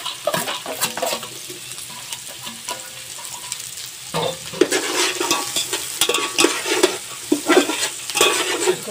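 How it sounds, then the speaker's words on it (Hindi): Carrots and beans being stir-fried with garlic, onion and capsicum for fried rice, with a steady sizzle in the pan and repeated scraping and stirring clatter of a spatula against metal, close and fairly loud. "इसको फ्राई करेंगे।"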